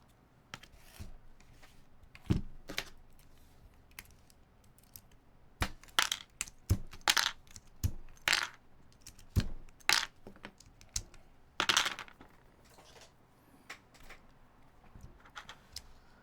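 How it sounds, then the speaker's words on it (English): Keycaps being pried off a keyboard during a mini SE rebuild: a scatter of sharp plastic clicks and snaps, irregular and close, with quieter rustling between pops. "I'm thinking here we'll pluck these keycaps off"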